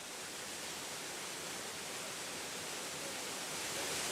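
A waterfall on the Rio Pastaza makes a continuous, even roar of falling water that stays soft and steady throughout, with no voices.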